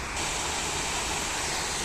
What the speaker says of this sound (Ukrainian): Бачите, вон з тієї сторони який водоспад.